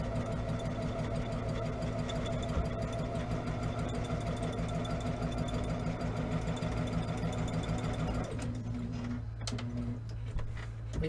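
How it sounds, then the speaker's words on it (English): A sewing machine stitching quilt fabric pieces together runs in a steady, continuous mechanical hum and rapid needle rhythm, close and even, then slows and stops near the end. "And then I'm just gonna go right down through here and sew this together."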